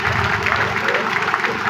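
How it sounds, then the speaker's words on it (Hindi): Applause from a village crowd at an Ambedkar Jayanti celebration, dense continuous clapping heard close for a brief moment, muddied by background noise. "तालियां बजती रही।"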